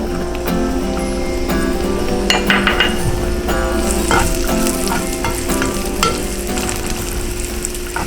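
Cashews and golden raisins frying in a pan, a loud continuous sizzle up close with repeated metallic clinks and scrapes of a stirring spoon throughout.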